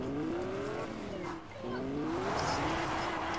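A car in the Fortnite video game is driven while taking damage, its engine revving in rising whines with a brief dip near the middle, loud and continuous, with tire noise mixed in.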